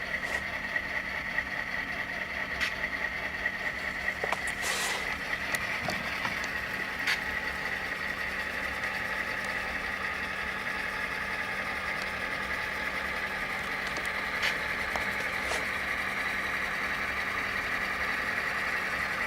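A model diesel locomotive with a Tsunami sound decoder, a Proto 2000 BL2, runs with a steady, quiet engine drone and faint mechanical clicks, alone without talk.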